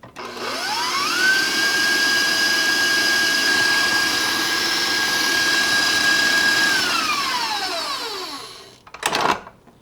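A stand mixer beats vanilla cake batter for a blueberry buckle in one long steady whir, winding up quickly, holding at high speed and then spinning down, followed by a brief clatter of a scrape.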